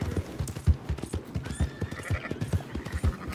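Agitated horses in Red Dead Redemption 2 whinny and neigh over a steady run of clopping hooves, close by and fairly loud, with mixed game ambience behind them.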